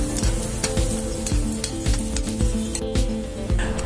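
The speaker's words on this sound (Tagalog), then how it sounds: "Umpisahan natin igisa ang ating bawang." Garlic sautéing in oil in a pan for pork kare-kare, a steady close sizzle with regular scraping and stirring strokes throughout, no talking.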